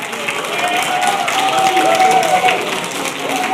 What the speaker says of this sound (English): Round of applause for Ali.